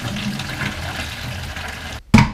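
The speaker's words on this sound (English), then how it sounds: "Pour in your stabilizer." Stabilizer solution poured into a film developing tank during color film processing, a steady close liquid pour and splash that cuts off briefly near the end before a short louder gush.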